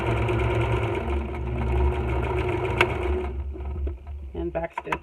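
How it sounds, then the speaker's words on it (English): A twin-needle sewing machine runs in a steady whirring stitch for about three seconds, then slows to a few short back-stitches and stops, with a voice talking over it. "Take a couple stitches and a couple stitches back, and then finish my sewing."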